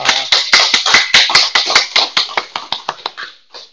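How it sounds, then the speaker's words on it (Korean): Church congregation clapping together at a Sunday worship service, a run of loud, evenly spaced claps that gradually thin out and fade, ending with a few scattered claps. "구원해 주신 하나님께 영광의 박수 한번 올려드리겠습니다."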